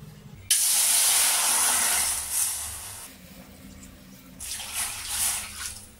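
Water is poured into a pan to cook rice flour payasam, a close, hissing rush that starts abruptly, fades after a few seconds and then returns briefly in a second shorter pour.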